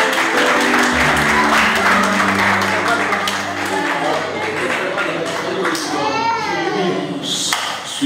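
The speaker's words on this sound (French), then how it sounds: "On applaudit encore très fort notre chorale." Audience applause for a children's choir, continuous clapping under a loud speaking voice and children's chatter, with a brief whistle-like sweep near the end.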